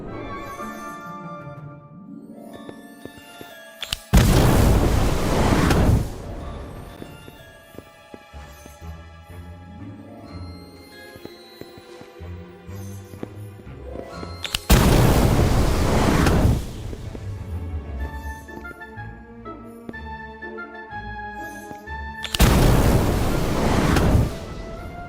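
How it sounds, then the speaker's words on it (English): Fiery whooshing bursts of the Incendio spell cast beneath cauldrons in Harry Potter: Magic Awakened, three loud roaring surges a few seconds each, separated by quieter game music. "Try casting Incendio beneath each cauldron"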